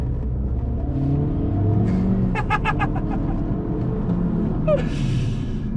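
A 2017 Chevrolet Cruze LT sedan engine rumbles steadily and builds in revving intensity, with a few brief squeaks and clicks, and no talking.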